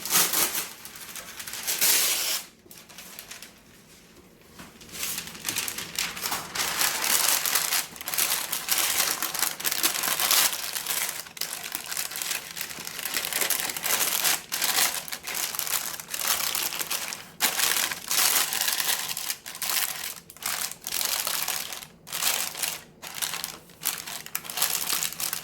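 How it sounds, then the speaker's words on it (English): Parchment paper being crinkled and pressed into a 9 by 5 inch loaf pan, a long stretch of loud close crackling and crumpling with brief pauses between handlings. "we're going to be using parchment paper and lining that pan"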